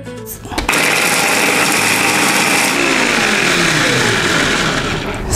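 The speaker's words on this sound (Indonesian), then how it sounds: "Lengkuas, jahe, serai aku chop-chop aja pakai chopper." Electric food chopper grinding galangal, ginger and lemongrass, a loud continuous high whirring motor that kicks in sharply after a brief start and runs steadily to the end.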